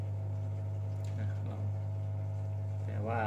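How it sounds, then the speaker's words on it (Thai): The drain pump motor of an Electrolux EWF1074 front-load washing machine with a door-lock fault runs with a steady, loud, close electric hum that never varies, while someone talks over it near the end. "มอเตอร์เดนเสียงมอเตอร์เดนทำงานนะครับ"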